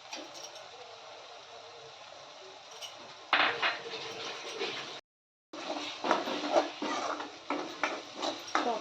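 Chicken in green gravy is stirred in a pan, with quiet background hiss giving way to clinking, scraping strokes of a metal spoon against the pan that come in bursts, close and fairly soft.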